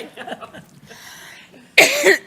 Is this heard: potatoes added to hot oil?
no